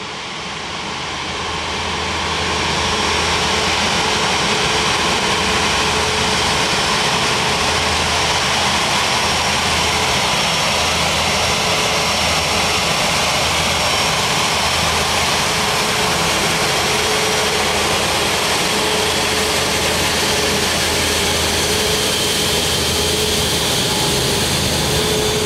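Jet engines of a Sichuan Airlines Airbus A350 at takeoff thunder continuously, a loud, sustained roar that builds in the first seconds and then holds steady and close, with no one talking.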